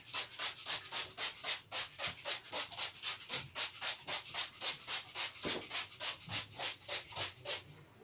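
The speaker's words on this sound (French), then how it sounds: "Là, il y a du bruit parce qu'ils sont en train d'arranger la porte du garage." Regular rhythmic scraping or rubbing strokes, roughly three per second, from workers repairing a garage door, steady and fairly close with no talking.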